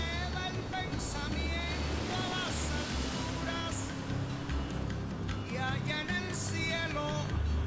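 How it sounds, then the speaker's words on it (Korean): Ocean waves surge and crash against the Malecón seawall in Havana, a continuous loud roar of surf with repeated splashes and wind buffeting the microphone. "바닷가 제방 안으로 파도가 넘쳐든다."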